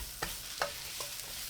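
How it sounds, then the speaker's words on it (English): Onions and chopped garlic stir-fried over medium heat for a Thai seafood tom yum stir fry: soft sizzling with a few distinct spatula scrapes, quiet and close. "Add the onions and the chopped garlic. Turn the heat to medium and stir for 20 seconds."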